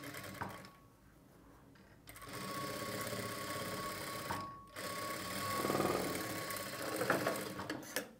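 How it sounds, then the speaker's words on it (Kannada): A domestic sewing machine runs in steady bursts, stitching a line beside fabric piping on a garment lining, its motor whirring close and continuous with brief pauses between runs. "ಪೈಪಿಂಗು ಪಕ್ಕದಲ್ಲಿ ಲೈನಿಂಗ್ ಮೇಲೆ ನೀವು ಒಂದು ಹೊಲಿಗೆನ ಹಾಕ್ಕೊಳ್ಬೇಕು"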